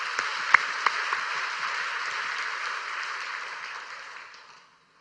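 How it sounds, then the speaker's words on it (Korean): A church congregation claps in thanks to God, dense even applause that holds steady and then fades out near the end. "우리 다 함께 하나님께 감사의 박수로 영광 돌리겠습니다."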